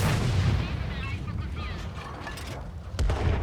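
Tank cannon fire in World of Tanks Modern Armor on PS5: a heavy boom with rumbling tail at the start, then another sharp blast near the end, over a dense roar of battle noise.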